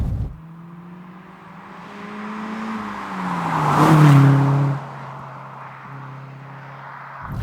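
Peugeot 206 GTi hatchback driving through town, its engine humming steadily, rising in a brief rev with a gear change, then settling back to a moderate cruise, close and alone.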